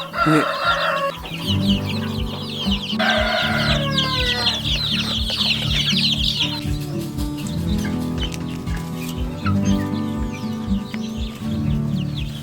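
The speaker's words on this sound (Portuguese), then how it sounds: "já separei os franguinhos das franguinhas" Young chickens, separated cockerels and pullets in a pen during the growing phase, cluck and call continuously in a busy flock, with a rooster-like crow and chirps rising over steady close clucking throughout.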